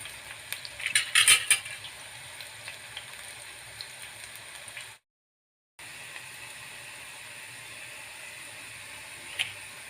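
Bitter gourd slices shallow fry in a generous amount of oil with a steady, even sizzle. Utensils clink near the start, and the sound cuts out briefly midway.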